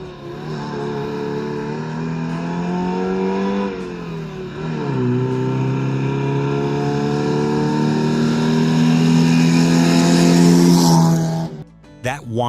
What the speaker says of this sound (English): That whine layered over the rapid-fire two-stroke exhaust created something that sounded like no other diesel on Earth.